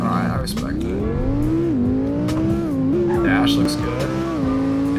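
A car engine in the Roblox game Driving Empire revs and shifts through an E-gear transmission, its pitch rising and dipping through gear changes, loud and continuous with faint tire noise.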